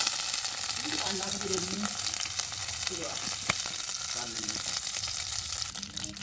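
Mustard seeds sizzle and crackle in hot oil on a stove, a loud, steady frying hiss with scattered pops, while a voice talks faintly underneath.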